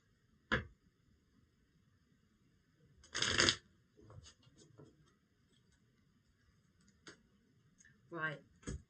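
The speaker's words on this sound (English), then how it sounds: "Let's give these a better shuffle." Quiet, sporadic tarot card shuffling with a couple of brief riffles and soft flicks, separated by near silence and faint handling noises.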